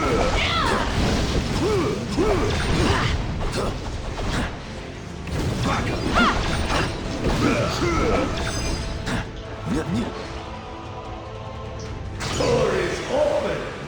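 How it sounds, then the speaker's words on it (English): In Marvel Ultimate Alliance 3, a door mechanism grinds and clanks open amid game battle noise, with heavy thuds, creaks and ratcheting, while voices talk over much of the scene. "Door is open!"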